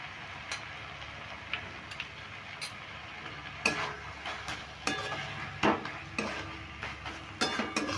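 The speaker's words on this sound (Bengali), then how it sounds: "চিনিটা দিয়েও ভালো করে নেড়ে নিচ্ছি" A spoon stirs banana flower curry with sugar in a pan, producing irregular clinks and scrapes against the metal over a faint sizzle, fairly quiet and close.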